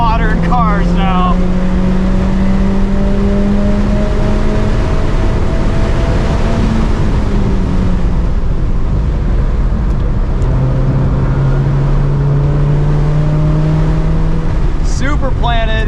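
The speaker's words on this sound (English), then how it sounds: "I love rev matching in my modern cars now" A 2014 NC3 Mazda MX-5 Miata engine on a race track, revving steadily with quick throttle blips as gears change, loud and close from inside the cabin, with voices talking over it.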